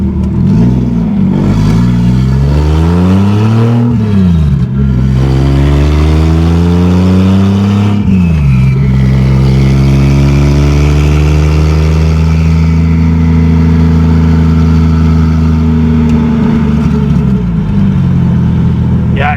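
A 2JZGE-swapped MK3 Toyota Supra on boost revs loudly and continuously, its engine note climbing and dropping through several gear pulls, then holding a steady drone heard from inside the car.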